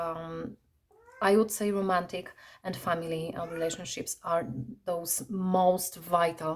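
A pet cat gives a brief rising meow during a pause, while a person talks steadily in the foreground.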